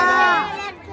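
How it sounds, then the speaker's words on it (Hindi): Dense roaring crowd at the Rath Yatra chariot festival, a loud wash of many voices shouting and chattering together, close and continuous for a brief moment. "इतना ज्यादा भीड़, इतना ज्यादा भीड़ है,"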